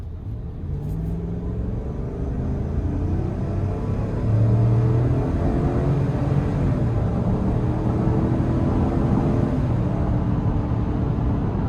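A 2026 Chevrolet Tahoe Premier with a 5.3 V8, heard from inside the cabin, accelerates with a steady, deep engine rumble that swells partway through and holds strong over road noise.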